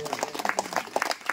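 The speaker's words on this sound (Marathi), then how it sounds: "एकदा जोरदार टाळ्या" An audience bursts into brief, dense applause at a Marathi devotional bhajan contest, many hands clapping together in a short, lively burst.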